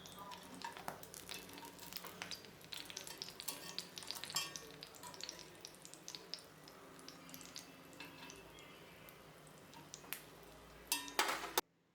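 Wheat momos frying in a thick iron pan give a steady sizzle with scattered crackles and some stirring or scraping, close and continuous throughout, with a brief sharper burst near the end.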